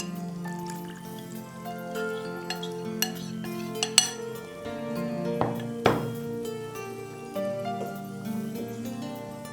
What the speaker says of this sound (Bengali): এই জন্য বারবার নেড়ে নেড়ে দিতে হবে।